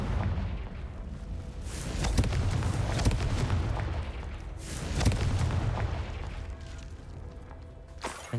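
Confringo fire spells explode in Hogwarts Legacy on PS5, several deep booming blasts a few seconds apart over a low rumbling battle din.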